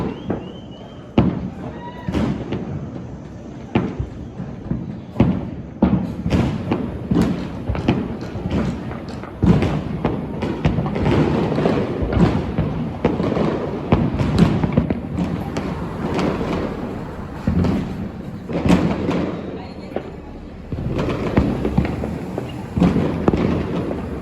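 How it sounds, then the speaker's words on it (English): Fireworks exploding at a New Year's celebration in Spain: a dense, irregular barrage of loud bangs, thumps and crackling bursts, near and far, continuing without pause for the whole stretch. "The firework display was festive, yet not unlike what a war zone must sound like."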